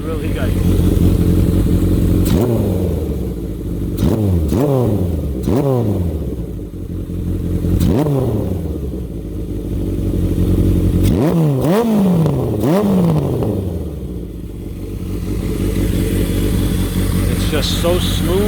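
A 1977 Kawasaki KZ650 motorcycle with a Delkevic ceramic exhaust idles steadily up close, its rhythm broken by a series of quick throttle blips that rise and drop back, with a voice talking over the engine.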